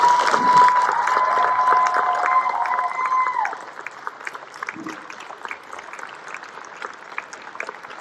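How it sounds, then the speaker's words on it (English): An audience at a gubernatorial candidates forum in Pendleton, Oregon applauds the candidates: loud, dense clapping that fades after about four seconds into scattered claps and room murmur, with a brief tone sounding early on. "Ladies and gentlemen, let's give all the candidates a round of applause."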